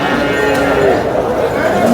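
Buffalo low loudly and close by at the crowded Sangola buffalo market, with deep drawn-out calls mixed into busy market chatter and voices.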